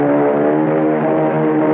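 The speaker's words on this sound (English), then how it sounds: "My 3 airplanes will take off and attack from the sky." Three cartoon airplanes take off for an aerial attack, giving a loud, steady droning engine hum with no breaks and no voices.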